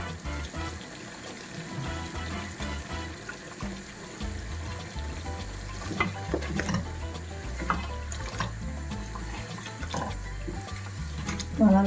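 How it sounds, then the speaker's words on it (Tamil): Onions and turmeric powder frying in a pan for a Réunion-style chicken massalé, a continuous hissing sizzle with crackles and spikes of stirring, moderately close. "இப்போ இவரையும் கொஞ்ச நேரம் நம்ம பொரிய வைக்கலாம்"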